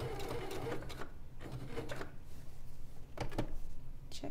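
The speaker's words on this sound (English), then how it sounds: "Do a little reverse stitch there." A sewing machine runs a short reverse stitch through a crossbody bag, a steady close mechanical whir in several bursts with brief pauses between them.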